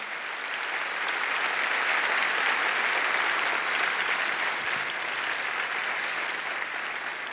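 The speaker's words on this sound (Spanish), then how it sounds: "apláudele al Señor" A church congregation claps during a Sunday sermon, a thick, even wash of applause from many hands sustained throughout with no voices over it.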